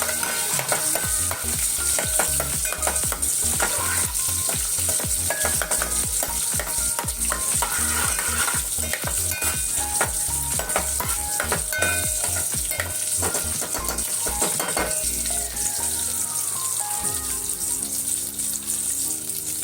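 Garlic and green chili frying in a pan for dal tempering, a loud steady sizzle with rhythmic stirring scrapes close by, and a brief splash of liquid near the end.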